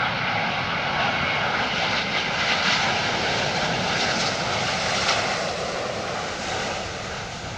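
A Boeing 777-9's engines roar loudly during a landing in gusty, blustery weather, a dense, continuous rumble with a faint whine that slowly eases toward the end, with no speech over it.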